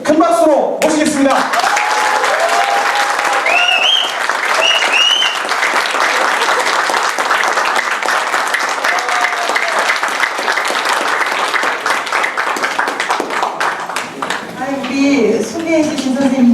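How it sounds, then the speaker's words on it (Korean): A lecture audience gives loud, sustained applause welcoming speaker Shin Eun-mi, with scattered voices and calls rising over the clapping before it thins out. "강연자 신은미 선생님을 큰 박수로 모시겠습니다"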